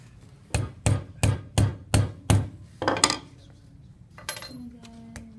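Six evenly spaced hammer blows ring out on a rivet, sharp metallic strikes close up, followed by a few lighter taps and clinks, then quiet with a faint tonal hum.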